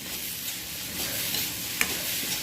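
Idli upma being stirred in a pan over a low flame, a steady soft scraping and faint sizzle with one sharper clink of the spoon near the end.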